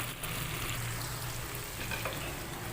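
Green chillies and coriander frying with taro in an arvi masala, giving a steady, dense sizzle close by that stays even throughout, with no talk.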